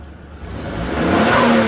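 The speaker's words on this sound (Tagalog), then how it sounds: "You hear that turbo?" A car engine revs up and rises in pitch to a steady, loud whine from a turbocharger, heard close in a driveway during an oil change, with no speech over it.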